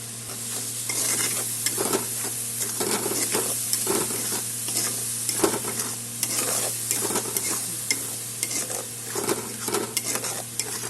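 Spice paste of Kashmiri chilli, cumin, coriander, tomato and turmeric sizzles in a pan while a spoon scrapes and stirs it in steady strokes, close and continuous with no talking.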